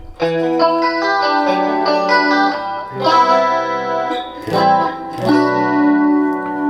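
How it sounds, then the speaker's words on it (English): An electric guitar on its back pickup strums several ringing chords through a Roland JC22 amplifier, given a wide, shimmering swirl by its dimensional chorus effect, each chord left to sustain. "And if I put the dimensional chorus on,"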